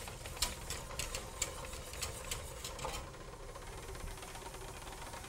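A stand mixer kneads bread dough on its lowest speed, a faint steady mechanical whir with rhythmic light knocking and clicks from the dough hook that fade after a few seconds, leaving a quiet motor hum.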